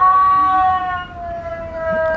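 Animatronic Halloween cat decoration in a store lets out a long, steady synthetic meow-like wail with a slowly falling pitch, loud and close, with no talking over it.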